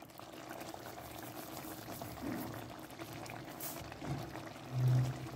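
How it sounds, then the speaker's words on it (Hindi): Kidney bean (rajma) curry bubbling steadily in a pot on a home kitchen stove, a continuous close simmering gurgle with a few louder pops and bursts near the end, and no talking. "देखें उबाल आ गया"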